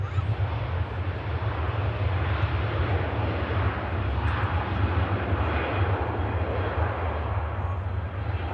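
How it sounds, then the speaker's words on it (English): A Virgin Atlantic Airbus A350 takes off from Manchester Airport, its engines producing a continuous deep, throbbing low rumble beneath a broad roar, sustained and steady at moderate loudness without speech. "rotates the Virgin Airbus A350"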